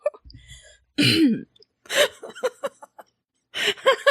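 A single sharp cough bursts out, followed by short breathy throat noises and brief chuckling sounds, close and loud against silence.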